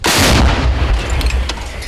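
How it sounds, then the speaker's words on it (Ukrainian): A single huge gunshot booms at close range in a war zone in Ukraine, followed by a long rumbling echo that slowly fades. "Постріл!"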